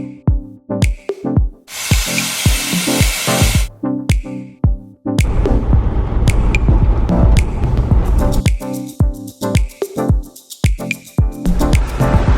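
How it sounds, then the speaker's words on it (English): Air hissing out of a V8 Land Rover Discovery 1's tyres fitted with beadlocks while airing down for offroading, loud close bursts of hiss separated by repeated sharp clicks and knocks from the valve tool. "I'm also going to take the opportunity to air down the tyres"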